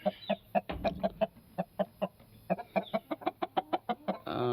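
A farm chicken clucks in a rapid series of about twenty short, evenly spaced calls, fairly close and clear against a quiet background.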